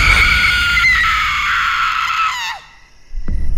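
A woman lets out a long, ear-piercing scream, high and loud, sustained for over two seconds before cutting off abruptly, followed by a brief quiet gap and faint rustling.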